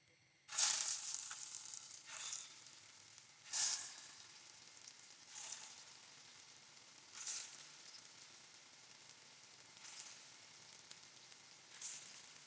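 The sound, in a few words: aloo tikki frying in hot oil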